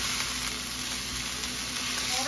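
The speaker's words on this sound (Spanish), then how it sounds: "Ahora le vamos a colocar el pollo. Vamos a dar vuelta y vamos a mezclarlo bien con la cebolla." Chicken tossed into a pan of softened onion for tinga sizzles and fries steadily, a close, continuous broadband hiss with light stirring scrapes and no voices.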